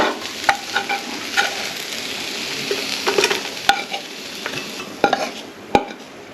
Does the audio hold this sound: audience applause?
no